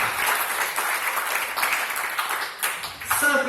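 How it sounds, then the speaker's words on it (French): Audience at a hypnosis show applauding a volunteer, dense sustained applause filling the room before fading toward the end. "un très grand applaudissement pour monsieur"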